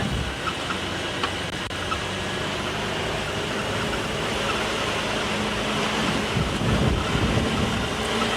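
Steady wind blowing outdoors during a sunset safari, a constant broadband rush with a low rumble and no breaks, loud and close to the microphone.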